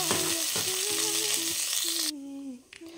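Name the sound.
whole spices frying in hot oil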